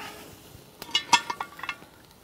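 A heavy cast-iron camp oven lid clinks and clanks back into place over lamb roasting on coals, a cluster of sharp metallic knocks close by after a quiet start.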